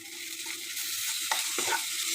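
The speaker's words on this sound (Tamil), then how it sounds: "இஞ்சி பூண்டு பேஸ்ட்டு போட்டோடனே அது வந்து அடி பிடிக்கும் அதனால் அது கிண்டிக்கிட்டே இருக்கணும்" Ginger garlic paste sizzles in a hot pan for mushroom gravy, a close, continuous hiss broken by a few scraping stirs of the spoon.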